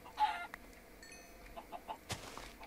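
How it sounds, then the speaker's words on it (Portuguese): Chickens in the Minecraft video game cluck in short, faint bursts, several scattered clucks alone over a quiet background, with a brief sharp hit sound near the end. "Tem muita galinha."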